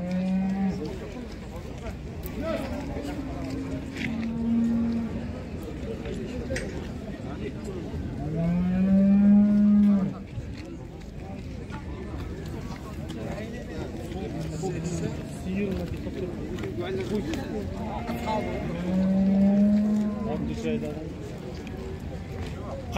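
Cattle moo repeatedly at a livestock market, several loud, drawn-out calls rising over a steady murmur of people talking and crowd noise.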